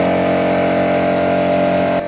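A polishing machine runs over ceramic tiles in a factory, giving a loud, steady mechanical drone with a constant hum that cuts off abruptly near the end.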